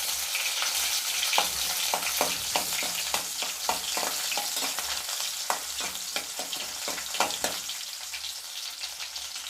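About fifteen small shallots sautéing in a pan for a drumstick-leaf dal, a continuous soft sizzle broken by frequent crackles and spatula scrapes, close-up, moderately quiet, with no talking.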